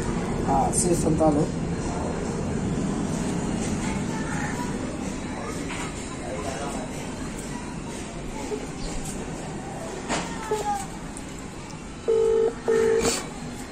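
Phone keypad tones sound as a number is dialed for a prank call: two short, clear beeps near the end. Talking and a busy background rumble come before them.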